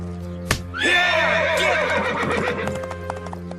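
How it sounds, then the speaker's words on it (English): A horse gives a loud, close whinny after a sharp knock, the neigh trailing off into snorts and shuffling hoof sounds, with no talking. "Set the horse free."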